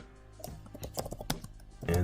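A short burst of quick keyboard typing, clicking keys in an uneven patter, fairly faint and close.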